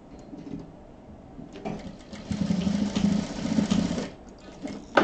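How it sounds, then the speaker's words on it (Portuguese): A sewing machine stitches a trim strip onto a fabric pouch, its close, rhythmic motor hum rising for a couple of seconds of steady sewing between quieter handling sounds. "vamos costurar aqui a nossa faixinha, que vai dar o acabamento aqui"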